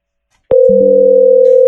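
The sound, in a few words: phone call ringing tone in Zoiper softphone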